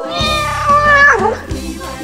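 A female cat meows in a long, drawn-out, wavering cry, loud and close, followed by softer trailing sounds.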